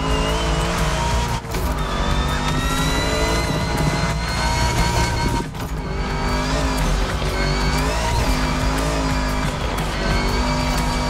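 An American muscle car drives hard at a motorfest, its engine roaring loud and continuous with rising and falling revs and harmonic whine throughout, heard close with no talking.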